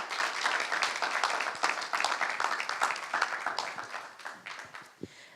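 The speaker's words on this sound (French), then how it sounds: "encore un tonnerre d'applaudissements" Steady applause from a crowd at a regional student business awards final, dense clapping holding at a moderate level before thinning toward the end.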